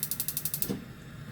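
A gas stove igniter on a stovetop clicks about eight times in quick, even succession before a soft whoosh as the burner catches on high heat, heard close and alone.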